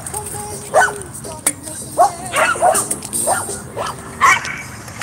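Several dogs at a dog park bark, yip and whimper in short, irregular bursts, close and fairly loud, overlapping in a scrappy back-and-forth with scattered snaps.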